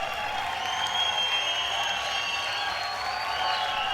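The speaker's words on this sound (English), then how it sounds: "the crowd erupts with appreciation" A bodybuilding show audience at the Tribeca Performing Arts Center applauds and cheers as a bodybuilder comes onstage; the clapping is moderate and steady, with faint music or tones behind it.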